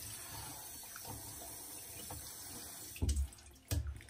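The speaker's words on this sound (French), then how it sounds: "Je me rince les mains." Running tap water pours steadily into a sink as hands are rinsed after removing makeup with washable cotton pads, a continuous close rush with two louder splashing surges near the end.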